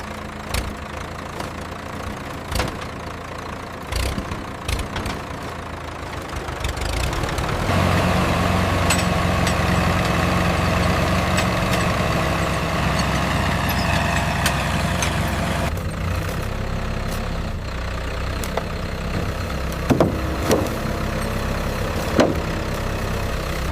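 A truck engine runs continuously, idling roughly with a knocking mid-range rumble that grows louder partway through and then holds steady, with no voices.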